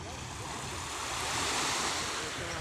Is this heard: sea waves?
yes